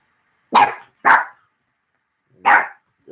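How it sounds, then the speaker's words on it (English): A pet dog barks close by, with three sharp, loud barks spaced unevenly and a fourth starting at the end, with silence between them. "There's my doggy barking again."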